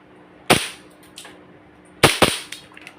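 Airsoft BB pistol fitted with a Runset rubber buffer firing three shots, sharp close snapping cracks: one alone, then two in quick succession, with faint mechanical clicks in between.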